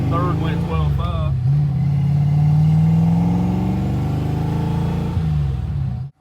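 A Fox body Mustang accelerates hard on a run: a loud, close engine note climbs steadily through one long pull for about five seconds, then dips briefly as it shifts and carries on before cutting off.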